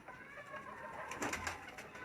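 Sheeda Teddy pigeons cooing close by, a soft rolling coo swelling briefly in the middle over a quiet background.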